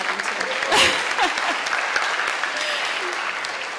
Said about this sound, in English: You can clap them too.